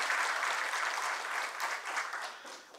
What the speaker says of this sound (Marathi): आपण हे जोरदार टाळ्या वाजवून त्यांचं स्वागत करूया